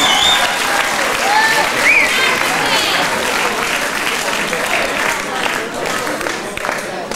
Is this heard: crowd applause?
yes